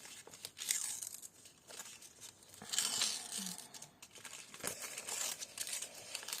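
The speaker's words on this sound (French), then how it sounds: "Donc ça se déchire comme ça, envie de se déchirer, hein." Paper being torn in several slow, rasping pulls, close up, with short pauses between tears and crinkling in between.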